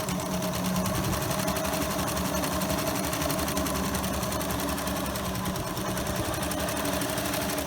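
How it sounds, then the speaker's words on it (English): Close and loud, a sewing machine runs a straight stitch through layered fabric for a medical mask, a continuous, evenly pulsing mechanical chatter that holds steady from start to finish. "And I'm doing a straight stitch for this."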